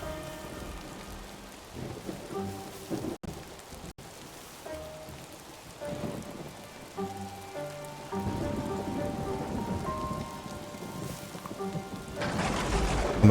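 Thunderstorm in the video game Old Man's Journey, with steady rain pattering on surfaces and low rolling thunder rumbles that build to a louder downpour toward the end, with no talk.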